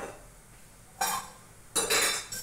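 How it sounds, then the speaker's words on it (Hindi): A kadhai (wok) set down on a gas stove at home, giving two clear metallic clanks a moment apart and a lighter clink at the end, near and alone over quiet kitchen room tone. "अब हम कढ़ाई रख देंगे।"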